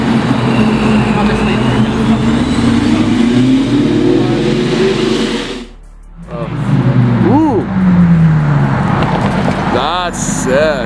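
A supercharged Fox body Mustang's engine rumbles and revs nearby, loud and sustained, with a brief drop before it surges again. Voices talk and exclaim over the engine noise throughout.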